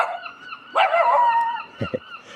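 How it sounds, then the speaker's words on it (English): A dog barks out a window at seagulls perched on nearby rooftops, giving a couple of sharp, fairly close barks followed by quick yips, with no talking. "There's a dog barking at a seagull."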